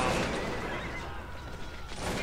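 A horse whinnies in the strategy game Cossacks 2: Battle for Europe, rising over a dense, steady wash of battle noise throughout.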